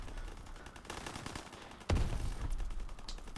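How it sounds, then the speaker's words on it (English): Scattered gunshots in the WWII-themed game Prop Hunt WWII crack through a quiet scene, with one sharp, heavy shot standing out midway among fainter distant bursts. "let's shoot everything, I'll find them eventually"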